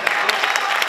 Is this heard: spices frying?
no